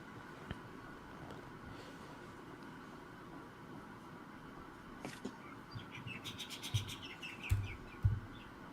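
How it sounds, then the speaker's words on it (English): Faint bird chirps come in toward the end, a few short high calls over a low background rumble, with some soft knocks. "Hey, I can hear the birds."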